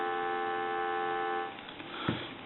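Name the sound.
telephone dial tone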